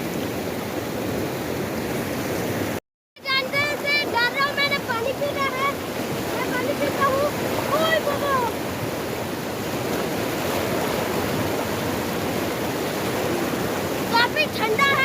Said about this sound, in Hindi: ये पानी ही पानी है, बहुत तेज नाला है।